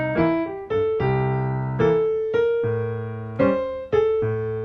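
Piano chords struck in a steady sequence, each sustained and ringing before the next change, played cleanly with no voices.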